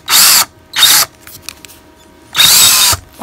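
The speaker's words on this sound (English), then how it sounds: "I've taken some wire like this, and I've chucked it up in this drill." A power drill twists wire into bait connectors, spinning in three loud, high whirring bursts with short pauses between them, close up and with no voices.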